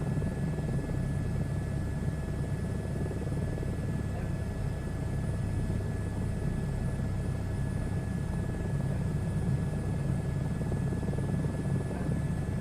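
A VR helicopter simulator renders a continuous, droning rotor and engine roar in flight at about 150 knots, steady and unbroken from start to finish with a thin whine on top.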